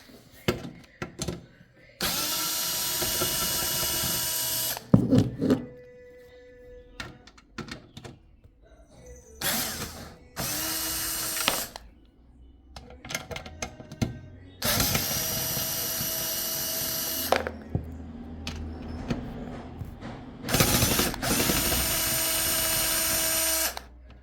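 A power screwdriver backs out the screws holding a PC power supply during a Micro ATX gaming PC teardown, giving several sustained whirring bursts of a few seconds each, separated by quieter handling clicks and rattles.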